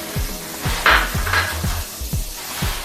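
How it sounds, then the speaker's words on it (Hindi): Sliced onion frying in oil in a pan while being cooked for rajma dal, with a steady sizzle, stirring scrapes and repeated low knocks of a spoon against the pan, close and fairly loud. "अब इसको हम भून लेते हैं।"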